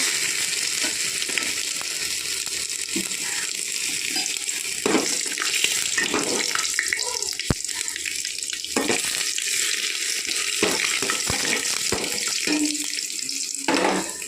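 Panch phoron spices, ginger and dried chilli fry in a hot pan for khichuri, giving a steady close sizzle with scattered sharp crackles and occasional clinks throughout.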